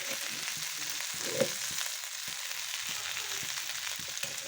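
Elephant apple (chalta) pickle cooking in a pan as it is stirred, a continuous close sizzle with soft scraping and clinks from the stirring, and no voices.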